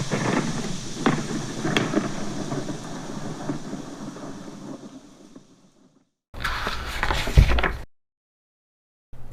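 Thunder in a flooding terracotta desert rumbles as a long, loud, broad roll that fades out, then a second sharp, heavy crack bursts in after a silence.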